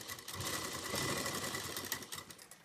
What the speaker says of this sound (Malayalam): ഞാനിപ്പോൾ ഇത് സ്റ്റിച്ച് ചെയ്ത് കാണിച്ചു തരാം.